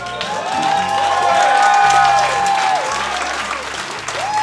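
Wedding guests break into sustained, loud applause at a Champagne-region wedding, a dense wash of clapping with a few cheers, while a melodic line of music carries on beneath the crowd.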